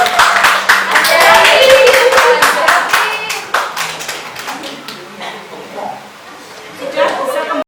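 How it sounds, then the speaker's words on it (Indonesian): A classroom of students claps for a fellow student group, with dense clapping in the opening seconds that thins into scattered claps, chatter and speech toward the end. "tepuk tangan untuk kelompoknya Mbak Naya"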